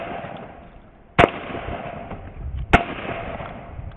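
A Beretta 12 gauge semiautomatic shotgun firing Federal low brass 6-shot shells outdoors, two sharp loud blasts about one and a half seconds apart, each with a short rolling echo afterward.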